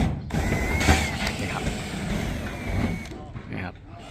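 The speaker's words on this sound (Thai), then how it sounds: "เอาน็อตตัวเดิมออกมาครับ" A ratchet loosens the original roof bolt nut on a metal roof sheet during a solar panel installation, giving short bursts of mechanical clicking and scraping, with a voice talking over it.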